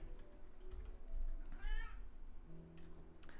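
A cat meows once in a Minecraft game world with a swamp biome, a short rising harmonic call heard over low game ambience.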